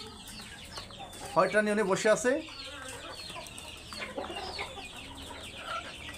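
Columbian chickens on a farm clucking and calling nearby, a brief louder burst of clucks followed by softer scattered clucks, with a person speaking briefly.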